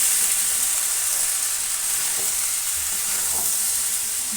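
Mixed vegetables seasoned with salt and turmeric fry in a pan, giving a continuous, close sizzle and hiss with faint stirring noises and no voices.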